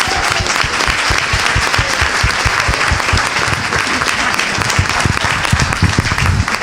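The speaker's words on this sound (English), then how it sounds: "Let's give them another round of applause." A sustained round of applause from a school board meeting audience, a thick, continuous wash of many hands clapping at an even, loud level with no break.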